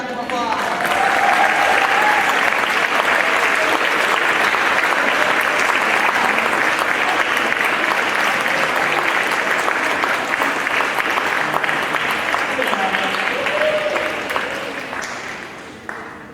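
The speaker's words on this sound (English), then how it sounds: "Let's give them another big round of applause." An audience claps for a student brass ensemble at the International Women's Brass Conference, a loud, dense, sustained round of applause from a full room that holds steady for over ten seconds before gradually thinning and fading.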